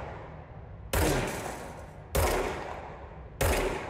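Three heavy gunshots from the video game Control, each a sudden loud blast with a long ringing decay, spaced about a second apart, with no voices.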